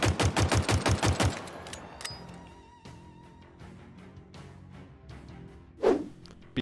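The Sidekick pistol in Halo Infinite firing: a rapid string of about eight loud, sharp shots, then quieter game ambience with one more isolated report near the end.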